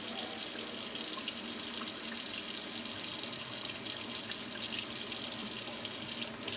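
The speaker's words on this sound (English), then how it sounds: "I'm gonna turn off the cold water." Cold water runs steadily from a tap into a sink, a continuous even splashing hiss that stays close and fairly quiet, with no voices over it.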